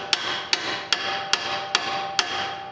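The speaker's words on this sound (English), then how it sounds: "I'm going to tap it with a hammer" A hammer taps a lower control arm on a 2005-2014 Mustang GT six times at a steady pace, each strike a sharp, close metallic clink.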